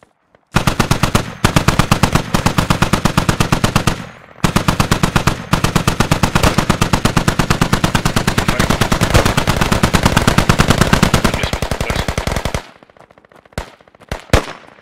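Sustained automatic gunfire in the Squad shooter game: loud, rapid machine-gun bursts run almost continuously for several seconds with a brief pause, then stop, followed by a few scattered single shots.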